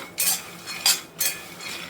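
Raw peanuts being dry-roasted and stirred in a kadhai over low heat, giving several close, rattling scrapes and clinks in bursts, with quiet pauses between them.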